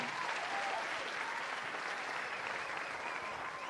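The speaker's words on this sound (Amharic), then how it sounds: "ሞቅ ያለ ጭብጨባ አንድ ጊዜ" Sustained audience applause at an awards ceremony, a dense, steady roar of many hands clapping throughout, loud and even, with no pauses.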